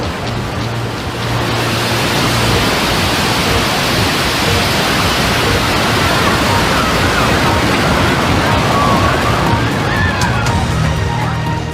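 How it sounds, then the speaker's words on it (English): A rocket lifts off with a loud, continuous broadband roar that stays steady and dense throughout, while a voice sounds faintly underneath. "We have liftoff."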